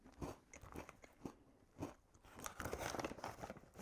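Frosted animal crackers topped with sprinkles being bitten and chewed close up, with several sharp crunches and an irregular crackling rhythm of chewing. No talking.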